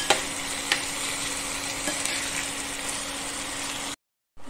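Two large onions frying in a pan for chicken biryani, a steady close sizzle with a constant hiss and a few small pops, cutting off near the end.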